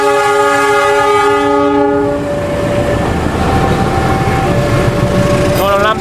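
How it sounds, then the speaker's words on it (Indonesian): A Sangkuriang passenger train's locomotive horn blares loud and close in a long sustained chord, cutting off partway as the train keeps rumbling past with steady rolling rail noise. "Nah, klakson udah diberikan sebanyak 35."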